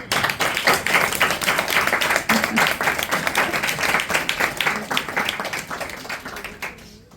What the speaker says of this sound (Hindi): इन सब प्यारों के लिए तालियां हो जाए।